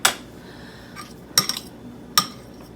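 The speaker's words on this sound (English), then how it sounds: "So I'm just scooping out the other half of the avocado." Metal spoon scraping and clinking against avocado skin as the flesh is scooped out, three or four short close taps and scrapes with quiet gaps between.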